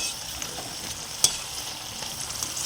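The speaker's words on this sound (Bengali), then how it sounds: "পকোড়াগুলো 2-3 মিনিট লো থেকে মিডিয়াম ফ্লেমে ভেজে নিয়েছি" Onion pakoras fry in oil over a low-to-medium flame, giving a steady close hiss of sizzling with scattered small crackles and one sharp pop midway; no voices.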